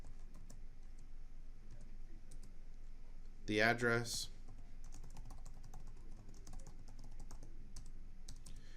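Computer keyboard typing while entering W-2 form information, faint soft key clicks scattered throughout, with a brief spoken phrase in the middle.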